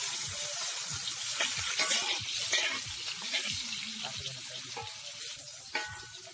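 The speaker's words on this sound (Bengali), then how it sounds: "পেঁয়াজ দিয়ে দিলাম," Sliced onions frying in a pan of oil for a village-style brinjal dish, a steady close sizzle with crackles and stirring scrapes throughout.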